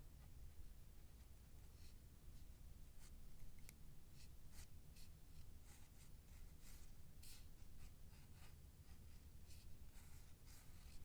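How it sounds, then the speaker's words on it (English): Close, quiet scratchy strokes of a pencil on paper, short bursts repeating in an uneven rhythm over faint background hiss. "sort of blocking out things with my pencils"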